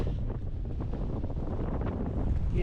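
Strong, steady wind buffets a microphone on a snowy mountain during a snowstorm crossing, a dense continuous roar heard alone with no voices.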